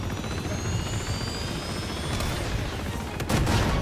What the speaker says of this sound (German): Jetzt haben sie wirklich nicht nur so ein normaler Hubschrauber, sondern so ein Black Hawk